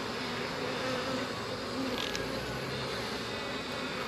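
Honey bees buzz steadily around an opened backyard hive during an inspection, a dense close swarm hum filling the whole stretch.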